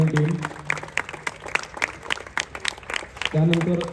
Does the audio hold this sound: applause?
yes